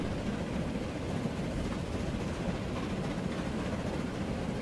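A train in the Transport Fever railway game rolls through a city network near New York, a steady, loud rumble and rattle of rail wagons that holds unbroken throughout, with no talking.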